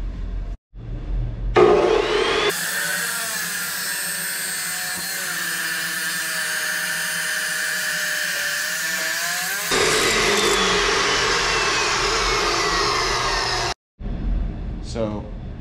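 A power tool cuts the ears off a steel bracket during truck suspension fabrication, a loud sustained grinding whine lasting about seven seconds, with short tool bursts before and after.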